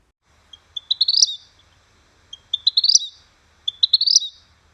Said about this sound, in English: males sing a repetitive, short, chirpy song